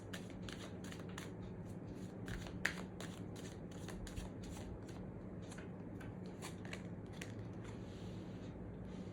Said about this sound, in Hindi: ओके, एक और कार्ड निकालते हैं